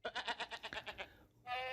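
A goat bleats in a rapid wavering series of about nine pulsed cries lasting roughly a second, then a shorter steadier bleat follows after a brief pause, close and clear with no talking.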